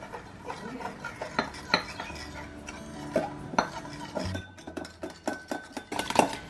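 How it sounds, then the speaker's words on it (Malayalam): A spoon stirring custard powder into cold milk in a small bowl, a series of close, quick clinks and scrapes against the bowl in an uneven rhythm, fairly faint, with no talking. "ഇതിലേക്ക് ഞാൻ 2 ടേബിൾ സ്പൂൺ നല്ല തണുത്ത പാലൊഴിച്ച് ഇത് കട്ടയില്ലാതെ ഒന്ന് ഇളക്കിയെടുക്കാം."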